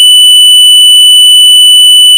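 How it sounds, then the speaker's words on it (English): The buzzer of an OJ Lighting signal light for CNC machine tools and automation equipment, giving a loud, steady, piercing electronic tone with a faint rapid pulse, close and alone for its full length. "The buzzer can reach more than 59 dB."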